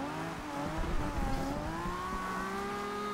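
A 1969 Nissan Fairlady Z engine in the racing game Forza Horizon 2 holds a steady, moderately quiet rev with rising pitch through a tuned drift run, and a brief rough tire-like flutter early on.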